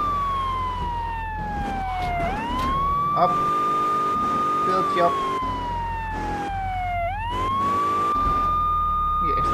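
Police sirens wail in the GTA 3 video game, a loud rising and falling tone repeating twice over a low engine rumble, with someone briefly talking over it.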